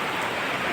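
Heavy rain falls by the Kali river in a dense, even wash of hiss, heard close up for a brief moment.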